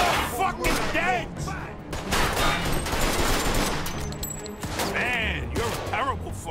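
Gunfire in a Mafia II shootout: repeated gunshot bursts crackle throughout, mixed with game music and voices talking over the action.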